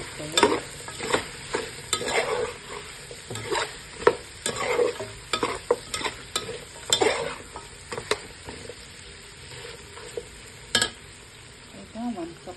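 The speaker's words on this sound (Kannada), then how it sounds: "ನಾವು ಫ್ರೈ ಮಾಡಿ ಇಟ್ಕೊಂಡಿದ್ವಲ್ಲ, ಈ ಆನಿಯನ್ ಹಾಕ್ಕೊಳ್ಳೋಣ. ಚೆನ್ನಾಗಿ ಮಿಕ್ಸ್ ಮಾಡ್ಕೊಳ್ಳಿ." Fried onions are stirred into mutton biryani masala, a soft sizzle under repeated clattering scrapes of a spoon against the pot, in uneven bursts with no talk.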